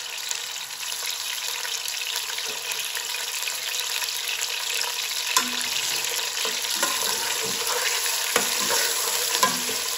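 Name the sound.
bone-in chicken leg pieces frying in olive oil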